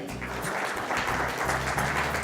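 A church congregation applauding, a continuous dense clapping from many hands in a large room, steady and fairly loud throughout.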